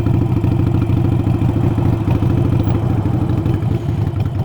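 A Harley-Davidson 883 motorcycle idles unevenly and a little jumpy, a close, loud, steady low rumble with a pulsing, slightly rough beat throughout and no talking.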